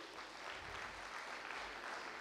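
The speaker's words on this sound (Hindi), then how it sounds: "जोरदार तालियां हमारे सूरज भाई जी के लिए।" An audience at a Brahma Kumaris meditation gathering claps for BK Suraj Bhai as he comes to the stage, a faint, steady patter of many hands lasting a couple of seconds.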